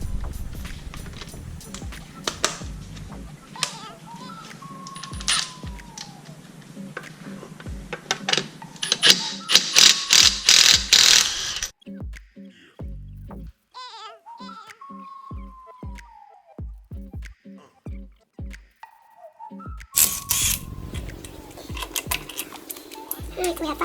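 A 3/8 ratchet with an adapter and 19 mm deep socket clicks in quick bursts while removing wheel bolts on a Porsche 911 Carrera, with people talking, pauses, and clanks of metal parts.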